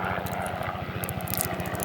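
A helicopter flies overhead, its rotor producing a rapid, steady low thumping pulse, fairly close and continuous with no talk over it.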